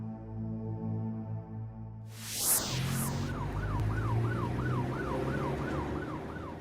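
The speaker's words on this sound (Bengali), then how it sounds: "ওই তো অ্যাম্বুলেন্স গেল।" An ambulance siren in a Bengali cartoon, wailing in a rising and falling pattern as it passes along a rough road, arriving suddenly and continuing loud and steady over the vehicle's engine noise.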